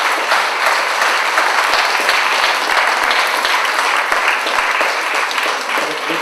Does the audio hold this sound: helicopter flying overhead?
no